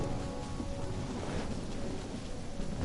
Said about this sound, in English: Lightning, go away.